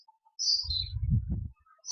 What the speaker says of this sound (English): Birds may be chirping because in the neighborhood, in the corridor, in the other room, in the terrace, my birds are shouting.